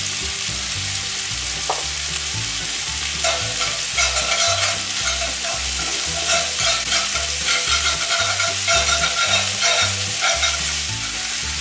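Chopped garlic and onion fry in oil in a pan, a loud, continuous close sizzle with a busy crackling texture and repeated stirring scrapes, with no voices.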